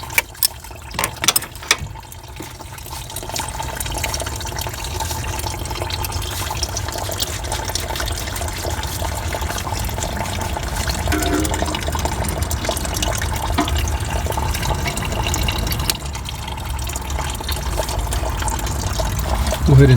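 Coolant drains out of a 1997-2001 Toyota Camry radiator in a steady, continuous trickling pour, with a few clanks at the start and a low background rumble.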